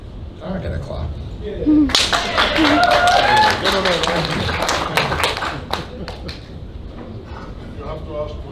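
A burst of clapping from part of the audience at a boxing press conference, erupting suddenly and thinning out, heard among chatter and talk in the room.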